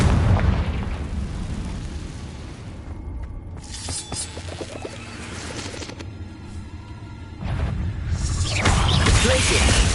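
The Confringo blasting spell in Hogwarts Legacy goes off in loud, crackling explosive bursts: a heavy blast at the start, scattered pops and shattering debris in the middle, and another big eruption near the end.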